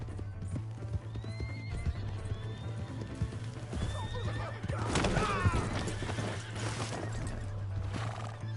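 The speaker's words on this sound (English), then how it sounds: "That's my horse!" A horse in the video game Red Dead Redemption II whinnies several times over steady hoof clip-clops, under a constant low game hum, with a sharper burst of hooves and whinnying midway.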